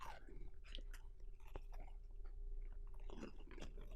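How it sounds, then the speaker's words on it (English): Warm, buttery chocolate chip cookies are chewed close to the microphone, with soft crunchy bites and wet mastication sounds over a low background hum. "Some people don't like the sound of chewing."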